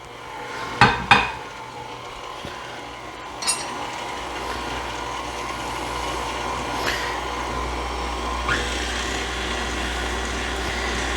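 An electric mixer whirs steadily through sweet potato soufflé batter with two eggs, a low continuous drone punctuated by a few sharp clinks of the beaters against the bowl near the start.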